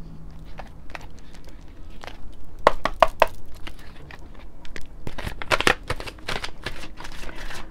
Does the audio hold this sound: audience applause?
no